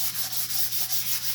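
A painted wooden sign is sanded by hand along the wood grain, producing close, steady scratchy strokes that repeat in an even rhythm, about five per second, with no talking.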